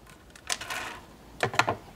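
Scissors snip through a pipe cleaner while a small beaded Christmas wreath is made, giving two short separate crisp cutting sounds close by in a quiet room.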